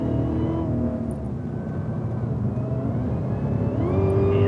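Cadillac CTS-V accelerating hard on a race track, its engine droning steadily at full load with the pitch climbing near the end, close and loud throughout.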